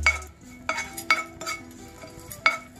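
Almonds fry lightly in a pan for carrot halwa, with a spatula clinking and scraping against the metal in several distinct taps over faint background noise and no speech.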